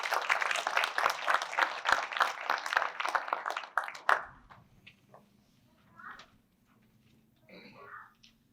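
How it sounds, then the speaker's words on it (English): Loud crowd applause at a volunteer recognition awards ceremony for about four seconds, then it stops abruptly, leaving a quiet room with faint murmurs and small rustles. "let's give him a round of applause"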